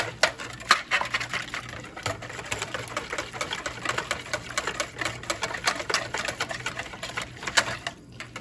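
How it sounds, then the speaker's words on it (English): Whisk beating jello mixture in a bowl, a fast steady clatter and scraping of wire against the sides that continues without pause throughout. "we're going to give it a really good whisk"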